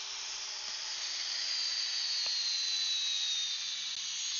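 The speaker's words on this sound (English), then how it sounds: "The Bosch GSB18V975C" A Bosch GSB18V975C cordless drill with a fully charged 4-amp-hour battery runs at full speed, a steady high-pitched motor whine that rises slightly in pitch and holds continuously, with no talk.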